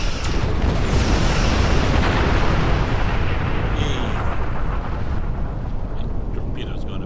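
A torpedo fires and explodes in the Star Trek Online space battle game: a loud, sustained broadband rumble of blasts that fills the whole stretch and eases slightly toward the end.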